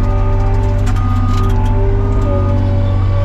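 A Bobcat L28 articulating loader idling steadily nearby in a yard, a constant low diesel drone with a few faint clanks on top.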